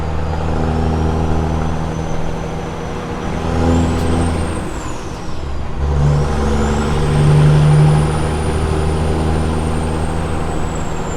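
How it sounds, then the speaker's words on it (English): Heavy freeway traffic near exit 23 in Huntersville heard from inside a truck cab, with a steady loud engine drone, big rigs rushing past and a rising and falling pitch as vehicles pass close by. "This is most of the traffic right here."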